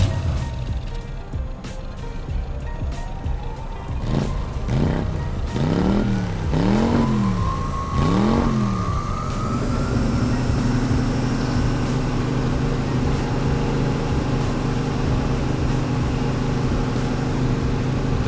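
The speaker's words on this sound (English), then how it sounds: "First official milling operation on the new mill for me." A large milling machine running a ball end cutter at 5,000 RPM, with a steady high whine and a series of rising and falling tonal sweeps before settling into a constant hum, close and loud with no talk.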